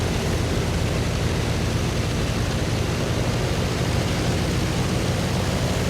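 A P-47 Thunderbolt warbird's radial engine at medium cruise, 32 inches and 2250 RPM, fills the cockpit with a steady, broadband roar that holds constant throughout with no voices.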